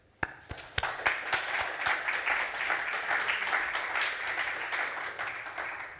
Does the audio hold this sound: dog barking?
no